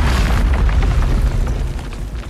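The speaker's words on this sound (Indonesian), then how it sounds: "dia bakal ngejebol tuh batu pakai bom" Rock blasted apart by a bomb: one deep, loud rumbling boom that rolls on and slowly fades over a couple of seconds, with no voices.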